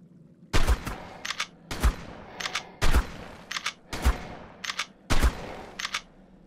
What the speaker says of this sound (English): I'll just kill all these guys with shotguns